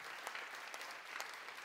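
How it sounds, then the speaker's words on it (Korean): A church congregation applauds together, a dense steady patter of many hands clapping that sounds fairly distant. "박수로 나와주세요"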